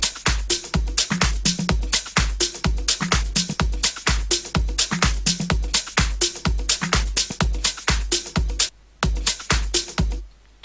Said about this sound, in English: we can add some new toms. Let's lower the pitch a bit.